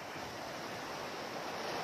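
Sea waves at Umm Al-Rakham beach in Marsa Matrouh wash in a steady, unbroken roar, mixed with a little wind rush and no voices.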